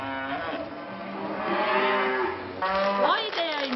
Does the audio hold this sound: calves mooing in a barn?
yes